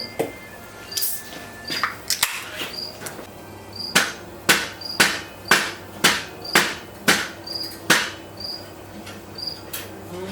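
A mallet strikes repeatedly while a rear tire is replaced on a Harley-Davidson Dyna motorcycle, a run of about a dozen sharp, close knocks in a fairly steady rhythm, with a few irregular taps before the series.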